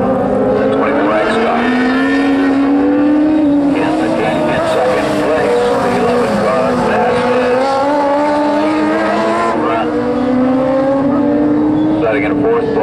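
Stock cars of a fourth-division class roar around a short oval track during a night trophy dash, engines droning steadily and shifting pitch as they lap, with a race announcer talking over them throughout.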